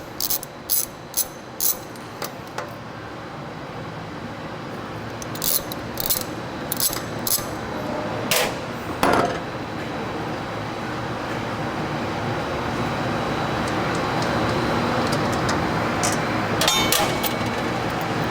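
A ratchet clicks and clanks as the centering bolts come off a Diedrich specialty coffee roaster during a bearing change, in bursts of metallic clicks over a steady machine hum, close and clear.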